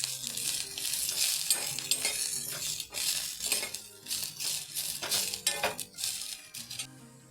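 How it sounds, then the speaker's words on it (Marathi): Cluster beans roasting in a little oil in a pan, a bright sizzle mixed with uneven scraping and clinking of a utensil against metal, close and without talk. "मी आज थोडंसं तेल टाकून मी हे भाजून घेते बरं का गवार"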